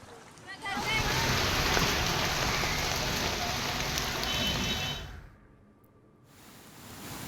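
Heavy monsoon rain falls in Konkan, a dense, loud hiss of drops on surfaces lasting about five seconds before cutting off abruptly, with a news voice over it.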